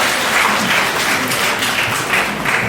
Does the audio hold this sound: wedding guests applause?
yes